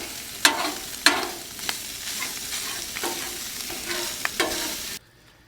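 Ground brisket burger meat fries on a Blackstone griddle with a steady close sizzle, broken by several sharp scraping clicks of a spatula, before the sound cuts off abruptly near the end.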